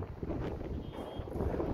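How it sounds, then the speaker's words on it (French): Wind blowing outdoors and buffeting the microphone, a continuous low rumbling roar that stays fairly steady throughout with no clear speech. "Oh, le vent."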